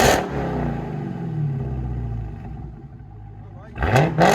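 A 2019 Dodge Charger Hellcat with a Flowmaster Outlaw exhaust revs hard, its loud rumble sustaining and then fading. A sharp second blip of revving comes near the end.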